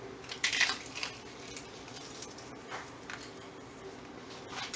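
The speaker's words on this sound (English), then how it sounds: "I'm gonna get my broken up tostada shell. Sprinkle it right up on there." Broken-up tostada shell pieces are sprinkled onto a burrito, giving a short cluster of crisp, light crunching and rustling taps near the start, then faint scattered ticks over a quiet kitchen background.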